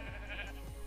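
A single short sheep bleat from Minecraft, faint and alone.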